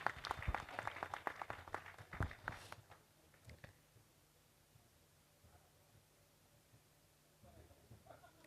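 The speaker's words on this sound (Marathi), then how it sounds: "आपण सगळ्यांनी टाळ्या वाजवा." An audience at a Marathi literary conference (sahitya sammelan) claps for about three seconds. The applause is moderate, thins into scattered claps and footsteps, and a quiet room follows.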